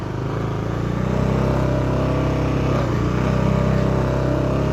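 Geared motorcycle engine running on the road with a steady droning hum that swells slightly as it revs, loud and continuous with no speech.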